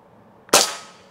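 A Crosman 3622 PCP air rifle fires a single sharp, loud crack at a target, the report decaying quickly into quiet; no voices.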